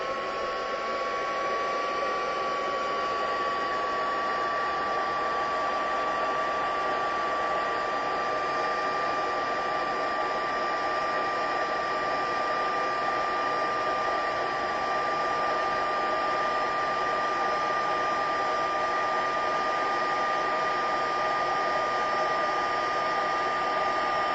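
A heat tool blows hot air steadily over a craft project to heat set it, a loud, constant close whirring hiss with no break.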